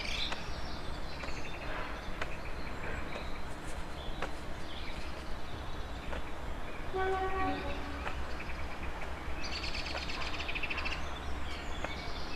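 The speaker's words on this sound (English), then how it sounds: "the birds are out in force, so I've got bird song today" Birds sing and chirp outdoors at a Chen style Yiquan practice session, with scattered calls and trills running steadily through ambient noise and low rumble, no voices.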